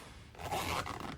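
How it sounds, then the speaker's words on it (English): A zipper on a NEEWER teleprompter cover is pulled closed in one quick, close, raspy stroke lasting under a second. "This just zips."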